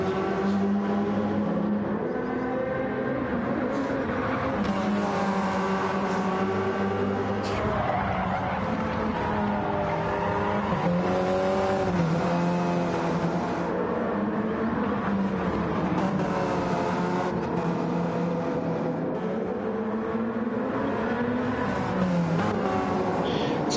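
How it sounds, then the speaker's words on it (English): Porsche 919 LMP1 hybrid race cars in a racing video game at Autopolis, with a loud, steady engine drone whose pitch rises and falls through gear changes and revving for the whole stretch. "So both of these guys are in the Porsche 919 LMP1 hybrid car, both on medium tyres."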